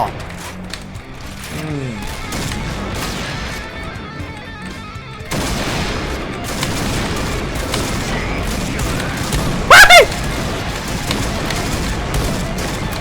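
Dense gunfire in the online shooter Point Blank, bursts of rapid shots and booms running nearly continuously with a loud spike near the end, while someone talks excitedly over the action.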